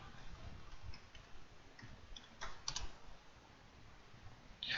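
Keys tapped on a computer keyboard while entering a node name in software, a quiet scattered run of soft clicks with an irregular rhythm, heard close against low background hiss.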